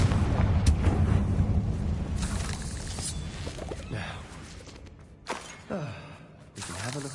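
Confringo fire spell blasts in the video game Hogwarts Legacy on PS5, a dense run of booming explosions and crackling impacts layered with game music and effects, loud and continuous throughout.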